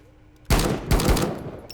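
Gunfire in a hardcore survival shooter video game: a sharp burst of rapid shots, a short pause, then a second sustained burst, loud and close with no talk.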